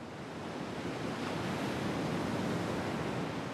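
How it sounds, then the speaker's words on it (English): Caribbean waves wash steadily against an eroding Panamanian shoreline with exposed tree roots, a continuous broad rushing surge with some wind noise, close and fairly loud, no voices. "the waves eat away at the earth and roots"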